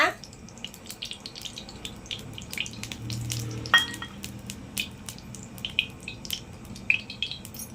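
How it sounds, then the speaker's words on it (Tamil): Groundnut oil poured into a hot, dry kadai gives a faint, scattered crackle and light sizzle, with small sharp ticks popping up close by. "இப்ப வடசட்டி காஞ்ச உடனே நம்ம எண்ணெய் ஊத்திக்கலாம்"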